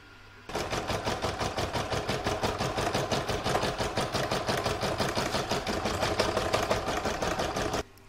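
An embroidery machine stitches a seashell design in a fast, steady mechanical rhythm of needle strokes, running continuously at close range before stopping abruptly.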